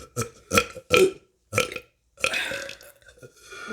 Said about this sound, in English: I can burp whenever I want.